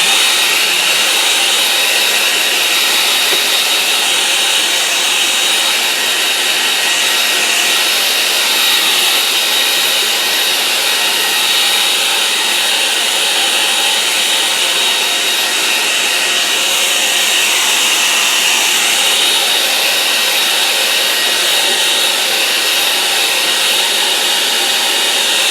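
A hair dryer blows steadily and loudly up close to dry a watercolour painting, a continuous whooshing roar with no talking.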